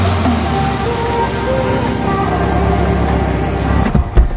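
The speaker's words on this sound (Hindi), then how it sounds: "गाड़ी की आवाज़ जो है ना वो इतनी खतरनाक है भाई, दूर तक सुनती है इसकी आवाज़।" Expensive sports supercar engine rumbling loud and close, a steady low throaty drone with a brief thump at the end.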